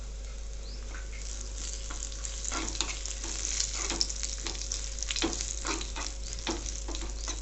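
Curry leaves frying in hot oil for papaya pachadi, a steady crackling sizzle with scattered sharp pops over a constant low hum, close by and with no talking.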